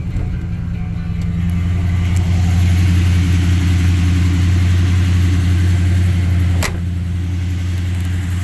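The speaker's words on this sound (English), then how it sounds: "So this engine sounds pretty good." A 1988 Jeep Grand Wagoneer engine idles steadily and loudly up close, with a deep, even drone and a slight rise in revs partway through, and no one speaks.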